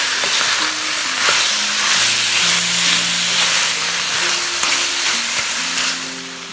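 Cubed beef for Vietnamese shaking beef (bò lúc lắc) sizzles and hisses loudly in a hot pan, a steady dense frying crackle with faint tonal ringing, no voices.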